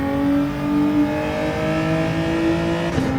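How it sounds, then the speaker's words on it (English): A Genesis G70 race car in Gran Turismo 7, lapping Fuji, holds a loud, steady high engine whine that climbs slightly as it revs, with a brief shift-like blip near the end. "For the G70 you can rev it out a bit and get some performance out of it"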